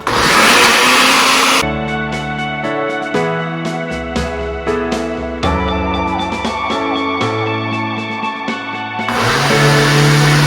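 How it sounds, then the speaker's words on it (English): A loud blender blending hummus roars at the start and again at the end, with steady musical notes playing in between. "once it starts blending kind of smoothly"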